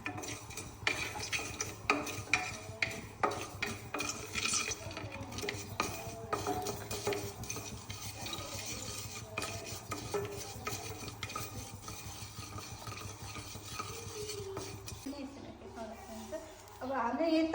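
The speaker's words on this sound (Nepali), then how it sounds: "यही तातै कराहीमा फेरि तोरी त पर्सिहाल्छ" Mustard seeds roasting in a hot wok while a utensil stirs and scrapes, giving busy clinks and metallic clatter with a light sizzle underneath, close and fairly loud, briefly quieting near the end.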